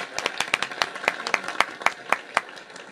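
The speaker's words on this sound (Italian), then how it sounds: "Un applauso!" Hand clapping during a locally broadcast quarantine-era show, a sparse set of distinct, crisp claps in a steady, even rhythm, as if only one or a few people are applauding nearby.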